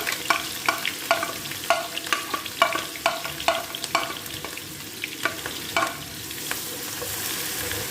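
Onion frying in hot ghee and oil, a steady close sizzle with a run of sharp stirring scrapes and clicks of a utensil against the pan, no voices.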